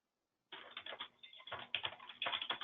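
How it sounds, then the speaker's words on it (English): Quick, uneven bursts of clacking come from fingers typing on a computer keyboard, close and fairly clear, starting after a short silence and continuing in rapid clusters with brief pauses. "I hear typing."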